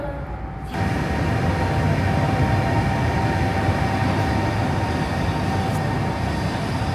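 A freight locomotive passes on track 2 of a Chinese railway station, starting abruptly and holding a loud, steady rumbling roar of engine and wheels on rail for the rest of the stretch, close and continuous.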